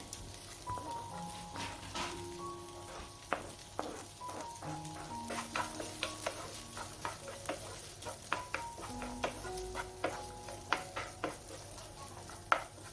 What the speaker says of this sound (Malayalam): കുറച്ചുകൂടെ ബട്ടർ ഇട്ട് കൊടുത്തിട്ട് ഇനി വെജിറ്റബിൾസൊക്കെ ആഡ് ചെയ്യാണ് അപ്പം ആദ്യം ഞാനിതാ ചെറുതായിട്ട് കട്ട് ചെയ്ത് വെച്ചിട്ടുള്ള ക്യാരറ്റാണ് ആഡ് ചെയ്ത് കൊടുക്കുന്നത്